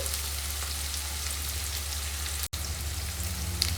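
Curry leaves and onion sizzle steadily in hot oil, a dense, continuous crackling hiss close by with no one speaking; the sound cuts out for an instant partway through, then resumes.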